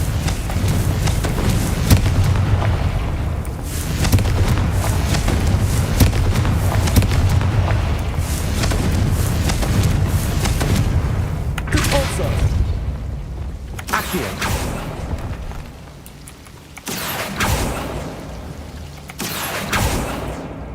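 The Confringo explosion spell goes off in Hogwarts Legacy with loud, booming blasts over a continuous rumbling game soundscape, broken by a few short pauses.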